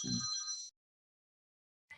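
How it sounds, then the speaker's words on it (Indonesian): A telephone ringing with a single short electronic trill burst, fairly faint, followed by silence and the start of another ring at the very end, no voices. "Saya izin terima telepon dulu."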